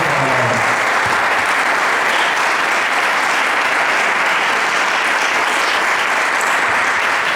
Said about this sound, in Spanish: Denle un buen aplauso.